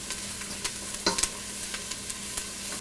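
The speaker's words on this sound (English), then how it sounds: "And let's stir that up really good." A garlic-shallot puree is stirred in a soup pot for Hungarian mushroom soup, a soft sizzle under rhythmic spoon scrapes and a few clinks against the pot.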